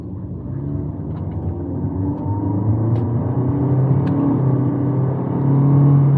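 Toyota Vios GR with a torque-converter automatic, driven in sport mode using the paddle shifter, accelerates steadily, its engine hum rising and growing louder from inside the cabin with no talk.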